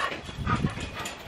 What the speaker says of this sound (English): But here's all the dogs.